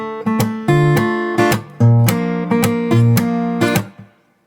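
Acoustic guitar playing the two chords of a tune, strummed in a bouncing rhythm with sharp percussive slaps on muted strings between strums, close and loud, ringing out at the end.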